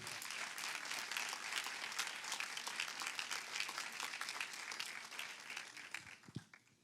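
A church congregation applauds in a dense, sustained wash of clapping that thins out toward the end, with faint crowd voices mixed in.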